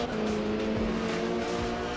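A race car in the Assetto Corsa racing game runs hard over trackside curbs, its engine droning loud and steady with brief rumbling thumps as the tires strike the kerbs.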